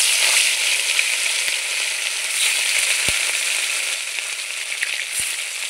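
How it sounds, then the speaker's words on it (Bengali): Fish fries in hot oil with a loud, dense, continuous sizzle close by, broken only by a few faint taps from the pan. "তো মাছটা ভেজে নিই আগে।"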